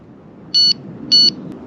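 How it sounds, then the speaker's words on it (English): Two steady electronic beeps from a carp fishing bite alarm on vintage tackle at a day ticket lake, each lasting about a fifth of a second and spaced roughly half a second apart, clear above a low outdoor background rumble. "Alarm."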